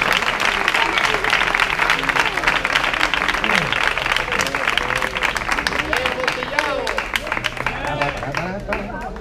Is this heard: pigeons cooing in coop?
no